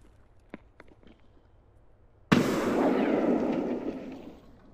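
A grenade explodes in the video game Escape From Tarkov: after a quiet stretch with a few faint clicks, a sudden loud blast erupts and rumbles on before slowly fading.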